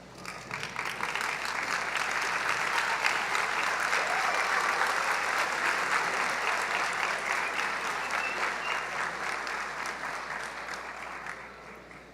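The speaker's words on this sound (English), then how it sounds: "Let's take a moment to stand up and applaud our professors and everyone at Guttman" Commencement audience standing to applaud professors, a dense, steady roar of clapping that holds for about twelve seconds before tapering slightly.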